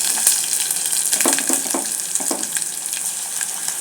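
Ginger garlic paste sizzling in a pan for chicken curry, a bright close hiss with a few louder spattering bursts and stirring scrapes in the middle, then settling to a steady sizzle.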